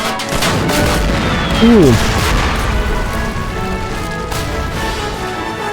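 A hand mortar explodes in a toy war battle: loud, continuous rumbling battle noise with a heavier surge partway through, and a man's brief exclamation over it.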